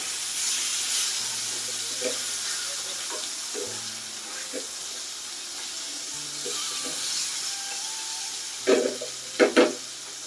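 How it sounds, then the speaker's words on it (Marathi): Surmai fish frying in hot oil, a steady close hiss and sizzle throughout, with a few louder clatters near the end. "तेलात सोडली आहे मच्छी"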